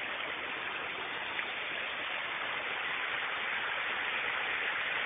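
Water pours steadily into a pool below the Salto de la Moneda waterfall, a constant, broad, hissing rush that stays even throughout with no voices.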